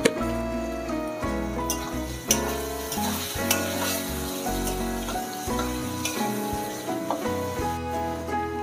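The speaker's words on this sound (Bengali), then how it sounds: "পেঁয়াজটা ভাজার সময় সামান্য একটু লবণ দিয়ে দেবেন, তাহলে পেঁয়াজগুলো তাড়াতাড়ি মজে যাবে।" Onions sizzle in a hot pan with a pinch of salt for a raw jackfruit kofta curry, a steady close frying crackle with occasional stirring, under tuneful background music.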